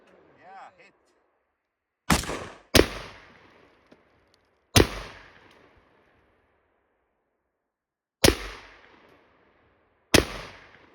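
Five sharp rifle shots at an outdoor shooting range with Vietnam-era gear, loud cracks with echoing tails, two close together then spaced out, with a brief voice before the first.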